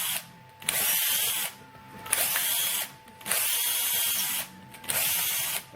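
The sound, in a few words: drilling out oozed PETG on a 3D-printed part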